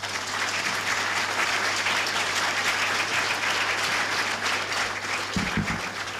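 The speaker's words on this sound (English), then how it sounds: "A round of applause once again." Sustained audience applause at a Ghana Navy memorial day event follows a presentation, a steady dense wash of clapping from a large crowd, with a low steady hum beneath and a brief thump near the end.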